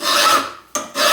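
A flat file rasps across a metal lug for steam locomotive boiler bands held in a vise, giving two loud, close strokes with a brief pause between them.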